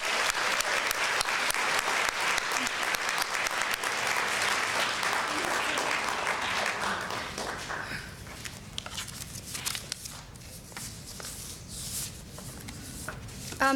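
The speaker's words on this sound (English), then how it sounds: "So a round of applause, please, for Tima McDashie." An audience at the opening of a Model UN conference in Washington, DC applauds loudly and steadily for several seconds. The clapping then thins and fades out as a speaker begins talking.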